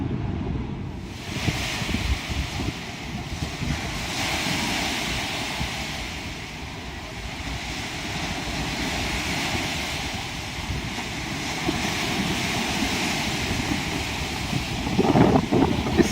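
Waves roll on a large lake in a steady, broad wash, with wind buffeting the microphone throughout and no voices.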